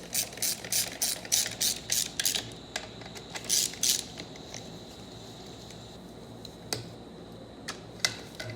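A hand ratchet tightens bolts on a TH400 automatic transmission during a rebuild. Close, crisp clicking comes in quick bursts at first, then thins to sparse single clicks over a low background hiss.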